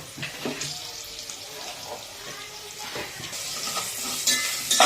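Spices, salt and turmeric being stirred together for Telangana-style bagara rice, with scraping and a faint sizzle, close and continuous, brightening toward the end, with no voices.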